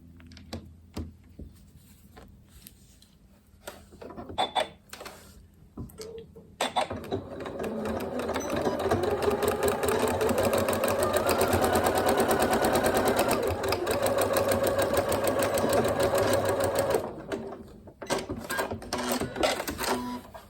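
A sewing machine runs steadily while stitching a row along the side of a cushion, a continuous motor whir lasting about ten seconds, with lighter handling clicks and rustles before and after.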